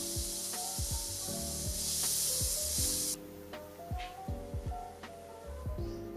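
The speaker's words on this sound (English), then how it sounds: "heat the 2 tablespoons of oil in a pot and fry the chopped onion over low heat" Chopped onion fries in two tablespoons of oil in a pot over low heat, giving a steady soft sizzle beneath prominent background music.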